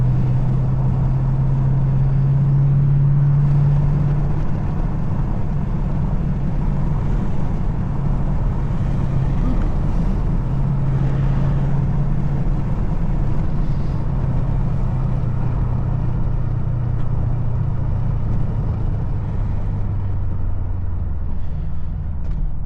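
A Dodge Durango SRT 392 being driven, heard from inside as a loud, steady low engine and road drone that swells slightly in places and holds throughout, with no talking.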